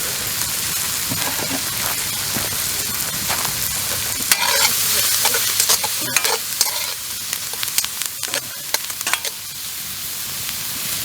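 Food sizzles and is stirred in a thin wok set over hot campfire coals outdoors in a forest, a steady crackling fry with scraping stirs and sharp clicks throughout, no voices.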